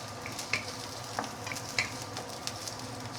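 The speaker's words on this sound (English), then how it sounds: "You should fry this for a couple of minutes until it is almost cooked" Vegetables fry with belacan in a hot pan, a continuous close sizzle with light clicks and stirring taps scattered throughout, and no voices.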